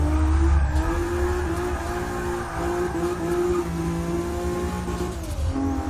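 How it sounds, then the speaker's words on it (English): A single turbo 2JZ Lexus SC300 revs loudly and drops pitch through downshifts, a steady high engine howl that dips and climbs again near the end, with no voices. "Downshifted a little early there."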